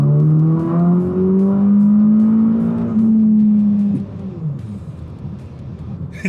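A car with an 034 Stage 2 tune launches hard with spinning tires. Its engine revs loudly and closely, holding a rising, strained drone for several seconds before it fades and recedes.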